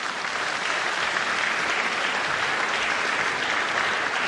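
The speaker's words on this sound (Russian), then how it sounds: "Долгие продолжительные аплодисменты" Long, sustained applause from an audience at Poroshenko's meeting with the diaspora, dense and steady for the whole stretch with no pauses or voices on top.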